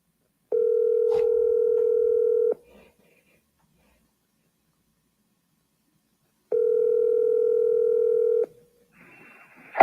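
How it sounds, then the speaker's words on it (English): A phone line gives two long steady ringback tones a few seconds apart while a call goes out, clean and close, with brief faint noise trailing after each. "Come on, Todd, answer the phone."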